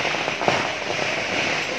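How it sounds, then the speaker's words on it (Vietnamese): String firecrackers set off during Tet on a rural roadside, a dense continuous crackle of rapid pops at steady loudness with no talk. "đốt pháo mà dạng như pháo dây á, sao pháo dây dài á"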